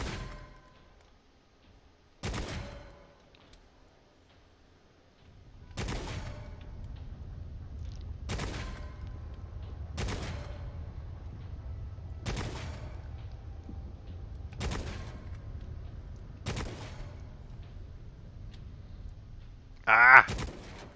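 Single gunshots ring out at a shooting range in the video game Necromunda: Hired Gun, about eight sharp reports spaced every two seconds or so over a low hum, each one loud and close.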